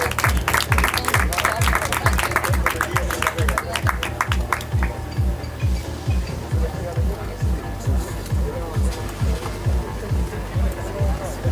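Audience applauds at a design-guide launch presentation in Antofagasta, brisk clapping over a steady rhythmic low thumping that fades after a few seconds, leaving a softer wash of hands and room noise.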